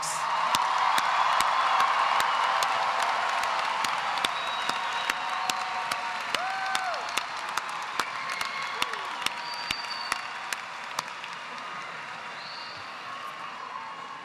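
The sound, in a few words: audience applause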